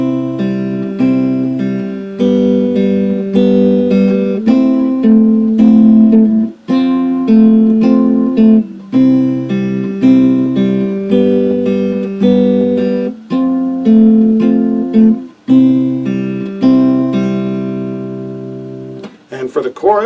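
Acoustic guitar playing the verse of a song, thumb picking bass strings under steady chord strums in a relaxed repeating pattern, close and clear without talking.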